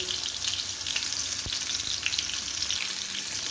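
Pieces of pointed gourd fry in a pan, giving a steady, close sizzle throughout with one sharp knock partway in, and no talking.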